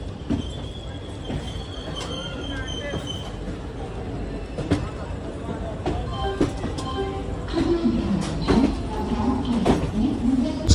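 Mathura–Barmer Superfast Express passenger train (12490) running after leaving Jaipur: a steady rolling rumble with periodic wheel clicks and occasional squeals, heard from on board.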